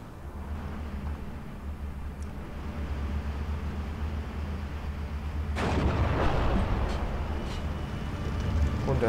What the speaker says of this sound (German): Auf das Maschinengewehr schmeißen wir mal ganz elegant eine Bombe